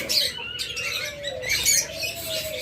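Pet birds chirp and tweet continuously, several small voices overlapping in bright, high calls at close range, with no talking.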